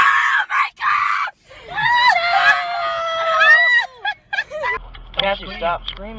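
A person screams loudly in a burst of high, wavering, harmonic cries during an animal encounter, with shouting and an overlapping voice.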